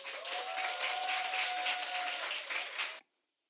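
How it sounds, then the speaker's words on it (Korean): A church audience claps steadily to welcome a pastor, dense applause that rises, holds for about three seconds and then stops abruptly. "박수로 환영해 주시기 바랍니다."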